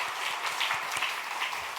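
A church congregation applauding together, a soft, steady spread of clapping heard from a distance at low volume with no voices over it.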